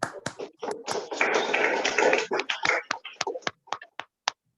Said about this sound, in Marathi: सगळ्यांनी टाळ्या वाजवा स्वतःसाठी.